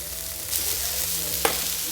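Pieces of chorizo fry in a hot pan with a steady, close sizzle and a single sharp pop near the end. No voices.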